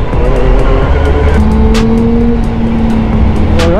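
Loud, smooth inline-four 600cc motorcycle engine hum with steady rising and falling pitch, close by, no voices over it.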